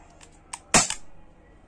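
A single sharp, snappy pop from a Walther PPS M2 CO2 BB pistol with a quick mechanical clack of the blowback slide, preceded by small clicks.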